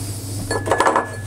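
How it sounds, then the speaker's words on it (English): A spoon clinks and scrapes against a pan while risotto with lemon juice is stirred, a short burst of metallic clatter rising halfway through and stopping quickly. "And give that a good stir."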